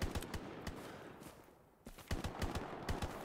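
Bursts of rapid automatic gunfire in the World War II shooter Hell Let Loose, loud and close at first, a short lull, then renewed sharp volleys of shots.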